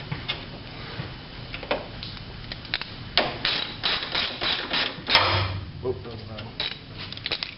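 Tightening parts during a power steering pump and hose replacement on a Toyota 4Runner, heard as a close series of irregular metallic clicks and taps, like a wrench or ratchet working on fittings.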